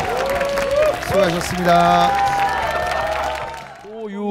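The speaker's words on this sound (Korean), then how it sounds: "박수를 부탁드립니다" Studio audience applause at a televised singing competition, clapping heard beneath a host speaking, with brief musical stings and tones over it.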